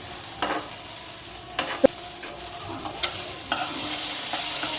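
Spices for a fish egg curry are stir-fried in a pan: a soft, steady sizzle broken by a few sharp scrapes and knocks of the stirring spoon, quiet and close, with no voices.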